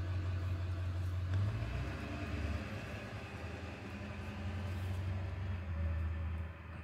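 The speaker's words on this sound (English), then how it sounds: "Sorry about the truck outside." A truck rumbles past outside, a low, steady engine drone with a deeper swell as it passes. The sound is muffled and moderately loud, with no voices.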